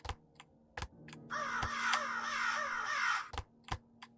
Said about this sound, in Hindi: बट कौवे की आवाज़ आ रही है।